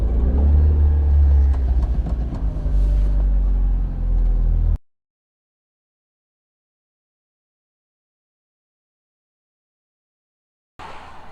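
A Mitsubishi Evo engine revving hard on a dyno during a tuning session, loud and close for about five seconds, then cutting off abruptly to silence before a brief return of sound.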